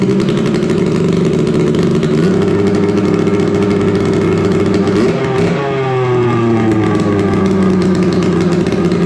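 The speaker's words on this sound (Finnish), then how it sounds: "räjäytetään käyntiin laitteet" A snowmobile engine starts up and runs after a repair, giving a loud, close, steady droning hum with a brief change in pitch partway through, then settling back to a steady run.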